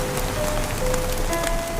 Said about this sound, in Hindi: क्योंकि बारिश शुरू हो चुकी थी